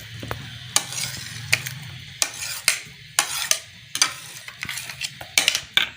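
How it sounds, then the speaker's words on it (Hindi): Fried, half-cooked onion, tomato and chili being stirred in a pan for a samosa omelette paratha, with repeated scraping strokes of a utensil against metal over a soft sizzle, fairly close. "अभी प्याज, टमाटर और सब मिर्च जो हमने फ्राई किया हुआ था, हाफ कुक किया हुआ था, वो डाल देते हैं।"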